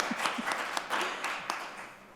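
Soft applause from an audience at a panel discussion in a UMass Boston room, a steady patter of clapping with a few sharper claps, faint and somewhat distant throughout.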